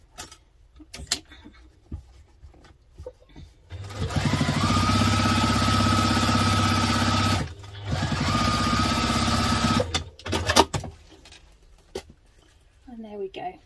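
A sewing machine top-stitches a sling bag in two steady whirring runs of a few seconds each with a short break between, close by, with brief handling sounds before and after.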